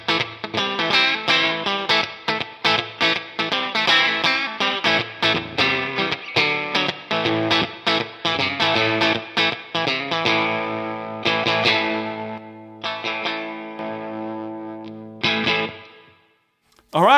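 A Stratocaster electric guitar played through a Stone Age Fuzz pedal, thick distorted riffs with choppy rhythmic chords giving way to sustained fuzzy notes, then a sudden stop near the end.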